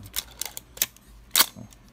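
The back cover mechanism of a Canon FP film camera makes a few small, sharp mechanical clicks and snaps close up, with a louder clack near the end and quiet gaps between.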